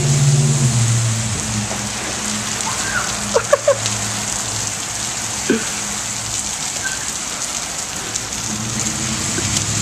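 Steady rain patters and hisses across the whole stretch, with a few brief knocks and clinks standing out midway.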